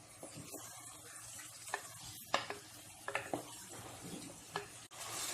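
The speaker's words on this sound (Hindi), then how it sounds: "गोश्त डालने के बाद हाई फ्लेम पे हम गोश्त को अच्छे से भून लेते हैं।" Marinated mutton fries on a high flame for Mughlai korma, a steady sizzle broken by scraping stirs and occasional clatters of a spoon against the pot, close and fairly quiet.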